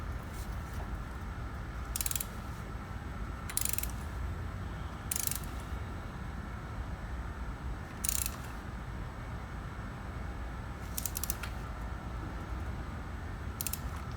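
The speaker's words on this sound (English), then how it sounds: "Torque the spark plugs to 28 Nm or 21 foot-pound." A torque wrench tightens spark plugs on a SAAB 9-3 V6, giving off a handful of short, crisp ratcheting clicks spaced a second or more apart over a quiet garage hum.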